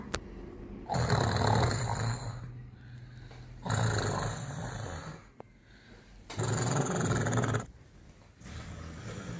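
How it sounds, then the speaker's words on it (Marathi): A sleeping man snores loudly in a home, three long rasping breaths about three seconds apart, each a rough growling rumble followed by a quieter pause. "झोप लागली, डराडर घोरून राहिले भाऊजी"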